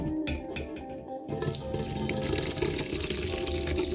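Wine poured slowly from a pot into a container during home bottling, a steady close trickle and splash of liquid that runs on continuously with no talking.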